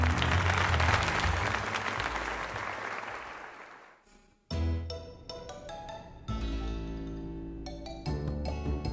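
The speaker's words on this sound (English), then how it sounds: "Now then, let us give another heartfelt round of applause to Sarah." Crowd applause from a Pokémon Legends Z-A scene after a tournament win, a thick burst of clapping that fades over about four seconds, then cut off by bright chiming game music and menu tones.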